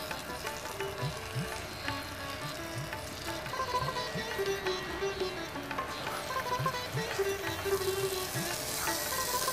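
Raw rice grains frying in a pan for pulao, a steady low sizzle and soft scraping running throughout at close range, with no voices.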